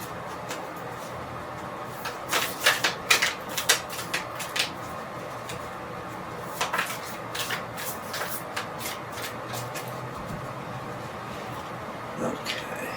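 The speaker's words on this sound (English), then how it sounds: "Alright, just 2 or 3 more shuffles." A deck of tarot cards is shuffled by hand, bursts of quick riffling and sliding card clicks in a few separate rounds with quiet pauses between, close and fairly soft.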